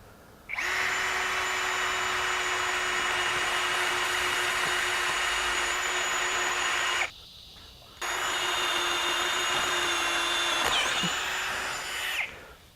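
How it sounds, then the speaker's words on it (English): A Ryobi HP compact 18V 1/2-inch One+ cordless drill driver whines steadily as it bores into metal with cutting oil, running for several seconds, stopping briefly, then starting again for another long stretch. "we're going to use a little cutting oil there, and we'll start right here"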